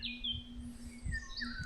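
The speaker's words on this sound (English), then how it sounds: "those birds I'm hearing, more great tits" Great tits sing outdoors in France's Loire Valley, a few bright chirping phrases repeating near the listener over a low steady hum and soft background rumble.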